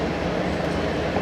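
A freight train at Fullerton station rumbles past, a steady, loud, broadband roll of wheels and cars with faint clickety rhythm throughout, no voices.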